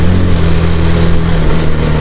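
A Royal Enfield Bullet motorcycle, struggling to start on a cold night, runs with a loud, steady low engine throb close by, its pitch holding fairly even throughout.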